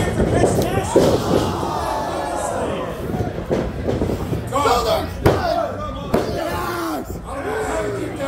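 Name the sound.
wrestler slammed with a shoulder block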